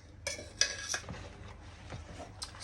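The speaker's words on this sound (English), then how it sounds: "put in all of the bananas and mix all together" Banana pieces mixed into wet banana bread batter in a bowl, with soft scraping and clinking of utensil against the bowl in a few irregular strokes, close and moderately quiet.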